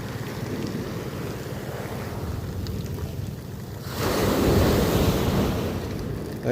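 Ocean waves with a strong current at Baler beach in the Philippines wash in a steady roar under gusty wind buffeting the microphone, swelling louder midway as a wave breaks close by.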